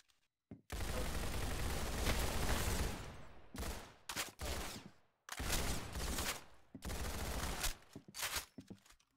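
Gunfire in the Roblox game Arsenal, a long continuous burst of rapid shots followed by several shorter bursts and single shots separated by brief gaps.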